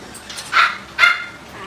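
A dog barks twice in quick succession, fairly close and sharp, with a short gap between the two barks and a low room murmur underneath.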